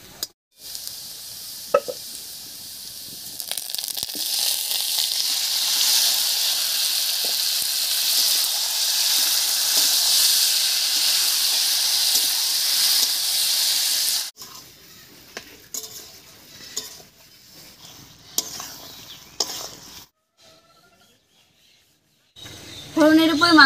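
Pigeon meat with reddish fried onions in a hot pan gives a loud, steady hiss of sizzling for about fourteen seconds. Quieter clatter and stirring follow, with a voice speaking toward the end.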